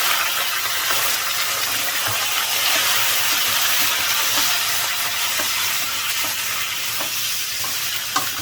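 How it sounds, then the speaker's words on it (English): Mutton fries in a hot pan with softened, translucent onions, giving off a loud, steady sizzle and hiss. Scraping stirs break through it now and then, and no voices are heard. "And fry the mutton"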